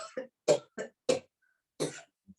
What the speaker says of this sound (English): we cough loudly